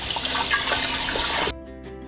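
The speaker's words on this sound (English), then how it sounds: "So once I'm finished with that, I give the container a good rinse." Running water rushes loudly as a kombucha brewing container is rinsed, a broad splashing gush that stops abruptly near the end and leaves a faint dripping tail.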